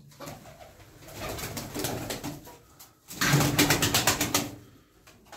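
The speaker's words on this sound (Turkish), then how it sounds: "Kanat sesleri, manat sesleri, fizikleri." Milk-white tumbler pigeons cooing and fluttering close by, with a burst of rapid wing flapping in the second half, loud and busy, no talking.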